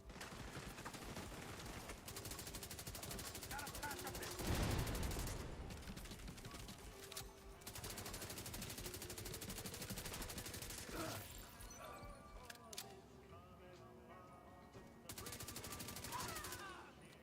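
LMG gunfire in the video game The Division 2, long sustained bursts of rapid automatic fire, loud and dense, with brief pauses and explosions and game effects mixed in.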